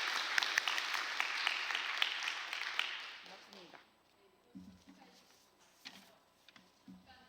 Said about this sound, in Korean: 다 같이 힘찬 감사의 박수를 드리겠습니다